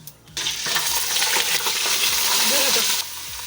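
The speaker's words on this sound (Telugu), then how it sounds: "అన్ని బిర్యానీ మసాలాలన్నీ దాంట్లో వేసుకొని ఇలా ఒక్క నిమిషం వరకు ఫ్రై చేసుకోవాలి" Whole biryani spices, bay leaf, marathi moggu and star anise, frying in a pan for mutton keema biryani, giving a loud, continuous sizzle that starts abruptly and cuts off near the end, with faint clinks.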